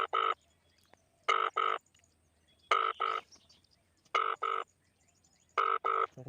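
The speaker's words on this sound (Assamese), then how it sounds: "ফোন লাগি আছে কিন্তু ৰিচিভ নকৰে" An unanswered phone call gives a ringback tone of five clear double rings, evenly spaced with quiet gaps between them and no one picking up.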